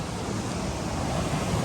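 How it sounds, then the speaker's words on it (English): A river flows just behind a trout hatchery's fish pens along a backpacking trail, heard as a steady, broad rushing wash of water with no voices. "And the river is right behind us."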